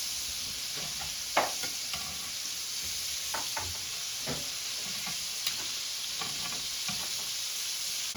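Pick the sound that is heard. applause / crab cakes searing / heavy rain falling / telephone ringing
crab cakes searing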